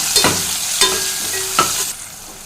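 Onions, tomato and green chili sautéing in a pan, a hissing fry punctuated by three distinct spoon strokes scraping and clinking against the metal.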